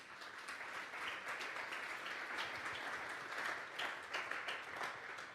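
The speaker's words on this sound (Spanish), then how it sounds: "Vamos a darle un fuerte aplauso esta mañana al Espíritu Santo" A Sunday church congregation claps together, a soft but sustained spread of many hands with small swells and peaks, heard from some distance.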